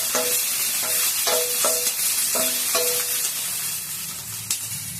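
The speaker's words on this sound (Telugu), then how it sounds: "కొంచెం ఆయిల్ వేసి వేసుకున్నా పచ్చిమిర్చి. కొంచెం కలర్ వచ్చిందాక వేయించాలి." Green chillies fry in hot oil with a steady sizzle, punctuated by a series of sharp stirring clacks of a spoon against the pan, close and loud, with no speech.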